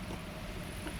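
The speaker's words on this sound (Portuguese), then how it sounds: "Há um bocado de vento agora" Wind blowing across an outdoor skatepark in Caldas, Portugal, a steady broadband rush that buffets the microphone throughout a very short stretch, with no voices.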